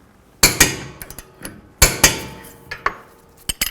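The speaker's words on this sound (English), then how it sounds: "We're going to torque this down to 166 foot-pounds." Sharp metallic clanks and knocks from tightening the rear shock bolt on a Ford Edge with a torque wrench, two loud clusters of close impacts followed by a few lighter taps, up close with no talking.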